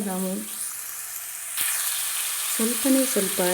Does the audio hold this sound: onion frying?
yes